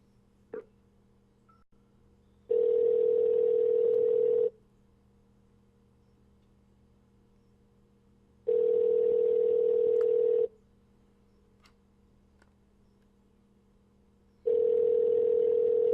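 A telephone call is being placed, with a steady ringback-style tone sounding in regular two-second bursts separated by quiet gaps, clear and alone on the line.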